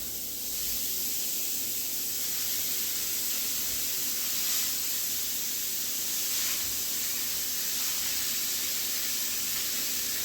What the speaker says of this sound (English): So I'm gonna start browning the ground beef.